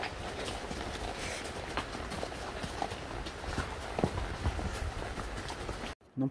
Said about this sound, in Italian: andiamo a cavallo in Costa Rica!